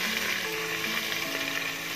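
Green peas and carrots hiss and sizzle steadily in a pan with fried onions for a veg pulao, a dense continuous frying crackle with no voices.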